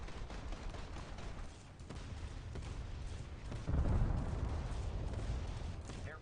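Enemy aircraft gunfire rattles in a video game as a C497 opens up from behind, a dense muffled burst of rapid shots over a low rumbling background that swells sharply partway through.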